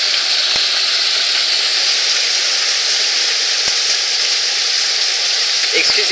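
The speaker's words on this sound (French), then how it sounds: "Je m'attendais vraiment pas à ce qu'il y ait de la grêle comme ça aujourd'hui." Heavy hail pounding a road and car roof during a violent June storm in the Var, a loud, dense, steady hiss of impacts with a few sharp cracks, continuous throughout.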